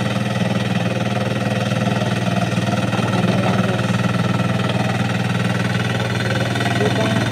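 A heavy farm machine engine runs steadily nearby, a loud, rough mid-pitched chugging with a constant knocking texture and no pauses.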